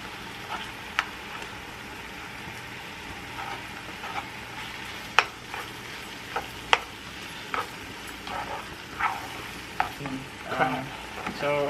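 Lobster and shrimp frying in a pan give a steady, moderate sizzle, with sharp utensil taps and clicks scattered through it and no talking.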